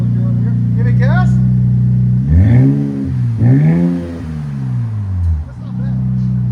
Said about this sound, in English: Start it up. That's the Super 10 I showed you earlier. Give it gas.